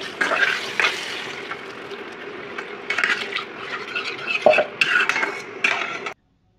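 A spoon stirring garam masala, chilli powder and cumin powder with a little water in a pan for Bengali katla fish curry, steady scraping and clinking strokes with a soft sizzle underneath, close and moderately loud, ending abruptly.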